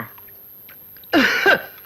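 A single short, loud cough bursts out after a near-silent stretch, close by and fairly harsh.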